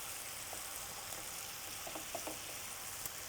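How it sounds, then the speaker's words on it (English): Thick, caramelising teriyaki sauce bubbles and sizzles in a pan beside salmon, a faint continuous hiss dotted with soft pops and crackles. "you can see that sauce is boiling"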